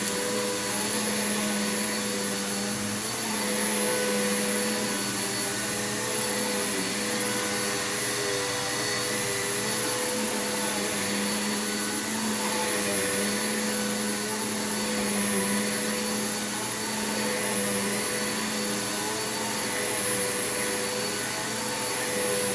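Bissell PowerForce Bagless 6583 vacuum cleaner running steadily across a living room floor, a loud continuous motor whine and airflow roar with a constant tone throughout and no talking.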